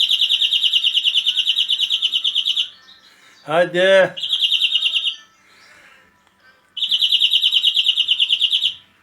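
A greenfinch sings in rapid trilled bursts near the microphone, two long phrases with a gap between, while someone speaks affectionately to the bird in the middle.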